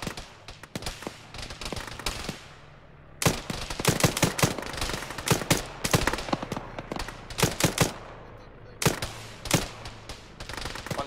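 ShackTac squad in a military shooter game takes bursts of rapid gunfire from a hill, loud cracking volleys with short gaps between them and a few single shots, no voices.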